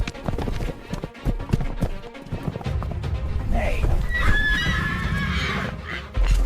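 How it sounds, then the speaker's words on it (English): Wild horses fleeing a leopard: a herd's hooves pound steadily and loudly up close, while high whinnies and neighs rise over the rumble partway through. "The herd of wild horses erupts in chaos. Hooves thunder, dust clouds rise, and the stallion cries out, signaling the herd to flee."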